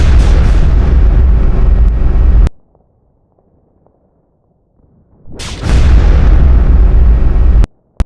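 Loud artillery-like gunfire and explosive blasts in a stop-motion Warhammer battle between Mordian Ironguard and World Eaters, a sustained roaring barrage that cuts to near silence, then resumes with another heavy burst and sharp cracks.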